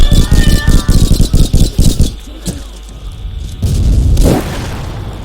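A loud, deep explosion booms and rumbles with rattling debris in the video game Line of Sight, followed by a quieter stretch and another heavy blast, with no speech over it.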